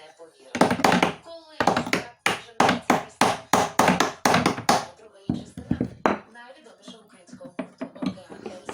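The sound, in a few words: hammering to knock out a car door hinge pin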